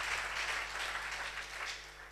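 Indoor audience at a workers' convention in Chiniot clapping together in a steady, dense wash of applause that holds for the whole stretch without voices on top.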